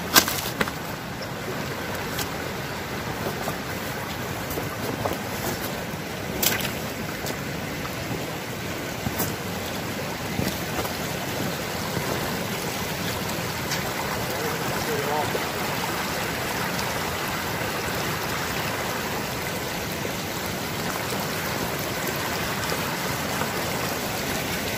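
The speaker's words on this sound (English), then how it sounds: "Look, we got a little creek here." A small creek flows in the Washington State woods, a steady rushing burble with occasional splashes and knocks, while people talk intermittently nearby.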